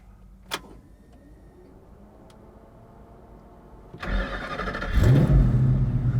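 A 1965 Ford Mustang fitted with a V10 engine cranks and fires up after a quiet pause and a single click. It catches with a loud roar, then settles into a heavy, rumbling idle close by.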